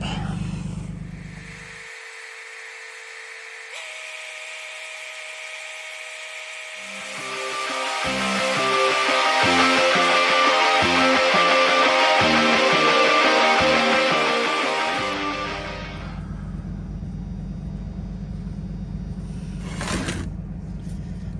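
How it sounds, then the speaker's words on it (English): Welding holders onto a CAT 637G scraper push block, a steady crackling buzz of the arc building up loud in the middle, with quieter machine hum and shop noise before and after. "let's weld this up"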